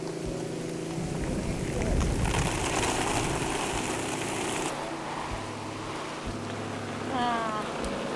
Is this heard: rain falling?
yes